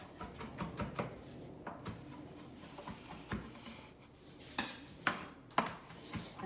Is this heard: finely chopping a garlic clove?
yes